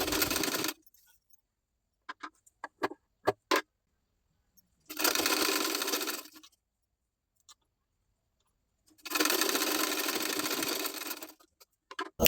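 Sewing machine stitching the side seam of a blouse, two loud whirring runs of a few seconds each, with a short opening burst and scattered clicks and taps of fabric handling between them in near silence.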